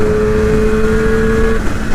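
A Yamaha RD 400 motorcycle engine revs steadily at high rpm, loud and close, its sustained tone holding level before easing off toward the end.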